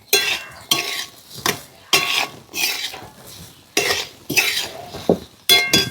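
Metal spoon stirring fried chapati crumbs with coriander in a pan, scraping and clinking in repeated bursts with a soft sizzle underneath, close and loud, no voices.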